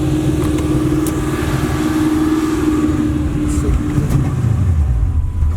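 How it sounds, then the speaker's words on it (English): A Chevy box car engine with a fuel pump problem runs steadily and loudly close by, a low continuous rumble that slightly shifts pitch as it settles toward idle. "I hit the gas, it probably idle down."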